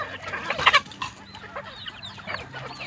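Chickens clucking nearby, a burst of sharp clucks early on followed by softer scattered calls.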